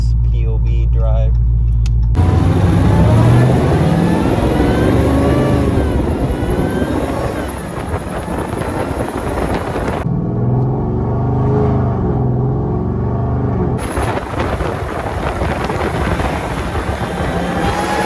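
A supercharged RT car drives through Los Angeles with a loud, steady engine drone and a high supercharger whine that rises and falls, heard from inside the cabin while people talk over it.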